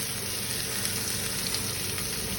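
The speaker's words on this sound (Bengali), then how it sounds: "এখন দিলাম পেঁয়াজ পেঁয়াজ দিয়ে পেঁয়াজটারে বাজমু" Onion sizzles steadily in a hot pan for a chicken and papaya curry, a loud, close, continuous hiss of frying with no pauses.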